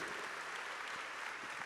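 A church congregation claps together, a soft, steady patter of many hands sustained throughout, faint and somewhat distant, with no one talking over it.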